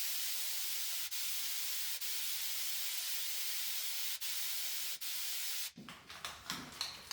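An aerosol can of wall texture sprays in a long, steady hiss for several seconds, then cuts off, followed by a few soft rattles and knocks.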